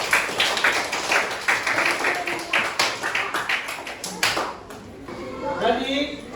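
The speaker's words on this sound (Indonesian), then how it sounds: "Tepuk tangan untuk kita semua ya." A group of students in a classroom during a Hindu religious education lesson claps together, a brisk, uneven patter of hands lasting about four seconds before it trails off into quieter room sound with faint voices.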